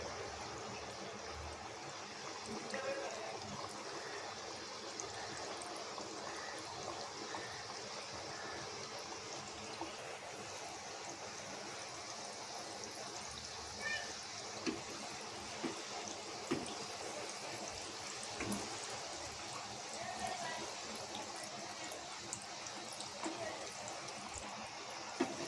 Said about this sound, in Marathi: म्हणजे आपलं तेल गरम झालेलं आहे. त्यामध्ये आपण खाजा सोडून घ्यायचे आहेत.